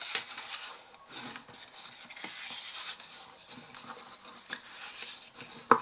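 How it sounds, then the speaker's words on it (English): A bone folder rubs and burnishes scored folds on cardstock, soft close scraping and smoothing strokes with light taps, quiet and without talk. "Bone folder. I'm going to fold and burnish our score lines."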